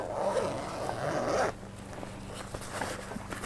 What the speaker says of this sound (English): Then we zip it up.